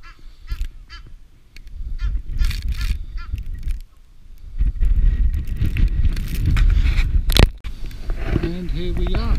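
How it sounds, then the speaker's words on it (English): Ducks fight on a winter day, giving repeated loud, harsh honks and squawks close by, with a person talking and some background noise. "ducks having a bit of a fight there."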